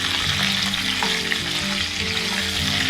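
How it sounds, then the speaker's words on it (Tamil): Broken crab pieces fry in hot oil with a loud, continuous crackling sizzle, close up and with no talking. "இப்போ வந்து இதை நண்டை நல்லா எண்ணெயிலே பரட்டிக்கிட்டணும்"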